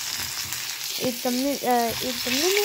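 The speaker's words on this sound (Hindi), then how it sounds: "थोड़ा सा आलू को फ्राई कर दिया गया है।" Potatoes fry in a pan with a steady, close sizzle for a vegetable tali dhoka recipe, while a voice talks briefly over the frying.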